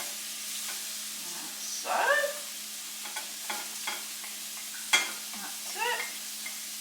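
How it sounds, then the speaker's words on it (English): Onions and beetroot sizzle in a pan for borscht while a utensil stirs them with scraping sweeps and knocks, and a voice speaks briefly over the frying. "So give that a stir."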